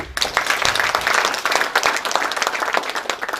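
A university faculty audience applauds the deans, a brisk, moderately loud burst of many hands clapping with a slightly uneven, fluttering rhythm.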